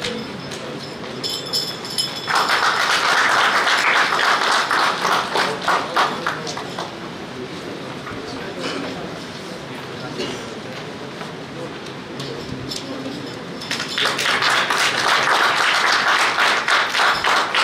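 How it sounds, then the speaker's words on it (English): A crowd at a university convocation ceremony in India bursts into loud applause, which fades while a voice speaks and then swells again near the end. "Please make a loud round of applause as your companions are having their memorable degree."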